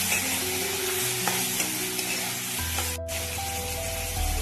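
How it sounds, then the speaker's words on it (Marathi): Chili powder sautéing in a pan for a cluster bean curry, a close, continuous frying sizzle with rubbing stirs of a spoon against the pan, no talk. "आणि असं छान परतून घ्यायचे आहे"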